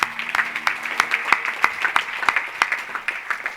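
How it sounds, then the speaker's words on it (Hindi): At a children's Gita program prize distribution, an audience claps in a loose, sparse round, individual hand claps standing out as sharp separate hits at a moderate distance. "इसलिए सच बोलने के लिए खूब जोर से तालियां इनके लिए"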